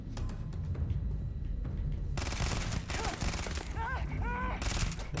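Gunfire in the space game Starfield: a dense, steady fusillade of shots over a thick background din, with faint speech underneath.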